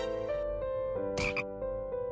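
A cartoon frog croaks once, a short raspy burst in the middle of a steady sustained musical tone, with no talking.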